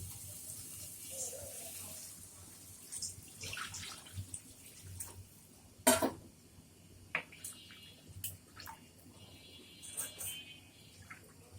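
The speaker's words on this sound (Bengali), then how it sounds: "আলুকে সিদ্ধ করার জন্য পানি দিয়ে দিচ্ছি।" Water is poured into a pan of potato curry simmering in its gravy, giving a soft, fairly faint splashing flow with a brief louder gush midway.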